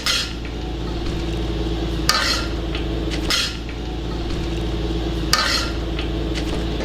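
Fried peanuts are scraped and tipped from a pan into a bowl while making peanut and tamarind chutney: a continuous rough scraping with a few bright metallic clinks over a steady background hum.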